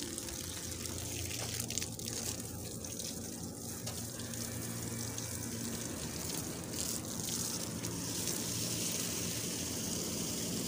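A steady spray of water hits the outdoor unit of an air conditioner during cleaning in hot weather, a continuous hissing gush that runs unbroken for about ten seconds.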